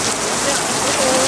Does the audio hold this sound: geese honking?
no